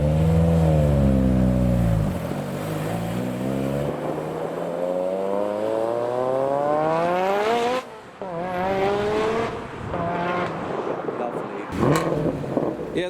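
A modified Mitsubishi Evo leaves a car show, its engine revving hard through rising gear pulls. Other cars pass loudly nearby, tyres squeal, and people talk over the roar.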